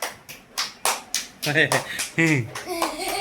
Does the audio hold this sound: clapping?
yes